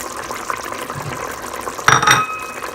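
Spices are stirred into onions in a pot of Bengali-style mutton and turnip curry, giving soft wet scraping and sizzling with a brief louder clatter of the spoon against the pot near the end.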